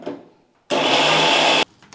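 A mixer grinder grinds soaked chana dal into batter in a single loud, steady burst of about a second, preceded and followed by brief quiet.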